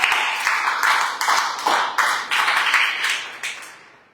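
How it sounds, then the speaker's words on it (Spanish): Congregation clapping in a church, a dense burst of applause with rhythmic accents that pulses steadily and begins to thin toward the end. "Dale fuerte el aplauso al Señor."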